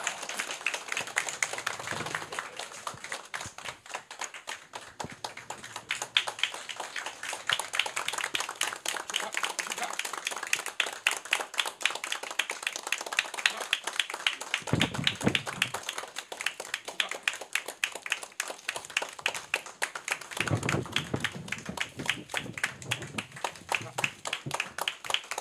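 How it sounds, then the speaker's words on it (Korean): A crowd at a party's proportional-representation candidate launch event claps steadily as flowers are handed to the candidates, a sustained rippling applause with brief lulls and faint voices beneath it. "꽃다발 드릴 때마다 앞에 계신 분들 큰 박수로 화답해 주시면"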